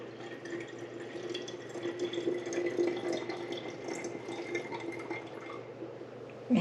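Lukewarm tap water running from a faucet into a sanitizer container, a steady, soft splashing and gurgling flow that continues throughout, with no talk.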